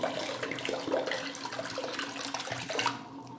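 Water drains with a steady rushing, gurgling wash in the Minecraft video game, loud and continuous throughout the short stretch, with no talk.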